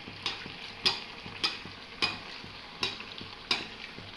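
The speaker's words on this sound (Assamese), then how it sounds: "এনেকৈ তেলেৰে চাওকচোন কি ধুনীয়াকৈ ফুলি উঠিছে" Bhatura puffs and fries in hot oil in a large kadai, with a soft steady sizzle broken by regular sharp ticks or taps about every half second, quiet and close, with no voices.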